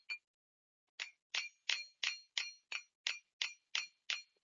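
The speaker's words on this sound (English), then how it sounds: "I'm gonna introduce you to this little hammer. It's what is gonna give them the texture." Small hammer striking a copper ring to texture it, about eleven bright, ringing metallic taps in a steady rhythm after one opening tap, close and clear with no talk.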